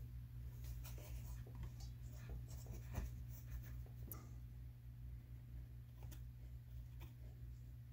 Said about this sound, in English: You draw with your pen.